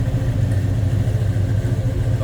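A 1971 Chevrolet Monte Carlo's engine idles with a steady, deep low rumble, close and continuous with no breaks or talk.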